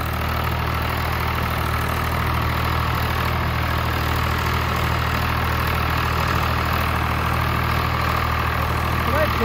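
A Swaraj tractor engine runs steadily with a Shaktiman Semi Champion rotavator attached, a close, loud, unbroken low drone throughout.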